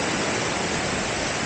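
A natural waterfall on a temple's grounds in the mountains, heard as a steady, dense wash of falling water, loud and continuous with no voices over it.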